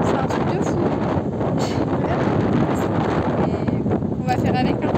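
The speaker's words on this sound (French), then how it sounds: "laissez tomber le vent, c'est un truc de fou" Strong wind at the beach buffeting the microphone, a loud continuous roar with gusty surges and rumble, filling the whole stretch without a break.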